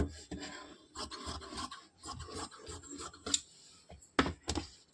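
Scissors cutting the front panel of a blouse from cloth, a string of close rasping snips and rubbing strokes with short pauses, fairly quiet, with no talking over it.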